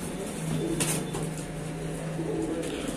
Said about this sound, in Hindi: और दिखाते हैं आपको नेक पाई कबूतर